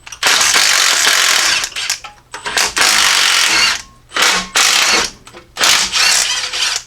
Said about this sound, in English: we're going to go and zip those guys off